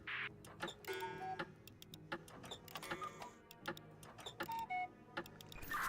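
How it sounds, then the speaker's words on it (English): A cuckoo clock in the video game We Were Here Together, heard as rapid ticking clicks with short whistle-like tones repeating in a dense, fairly quiet mechanical pattern. "It is a cuckoo clock sound."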